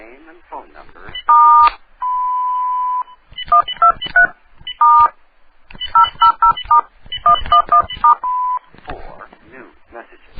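Touch-tone keypad beeps dial into a telephone answering machine on a call-in radio show, sounding as short bursts and one longer held tone, with an automated voice prompt heard between them.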